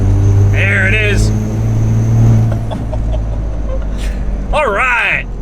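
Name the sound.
truck engine with turbo spooling while accelerating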